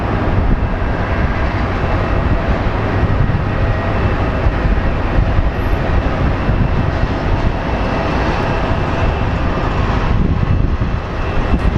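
An American Airlines airliner roars at Phoenix Sky Harbor International Airport, a loud, continuous broadband engine rumble that holds steady and close throughout.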